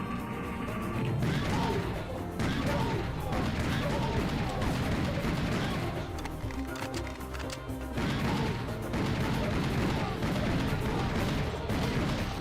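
Dense, continuous gunfire and crashing explosions from the Serious Sam shooter game on PlayStation 5, a loud unbroken barrage of shots and impacts with a voice talking over parts of it.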